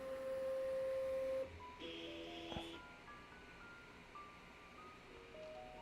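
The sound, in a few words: Sovol SV08 3D printer homing its axes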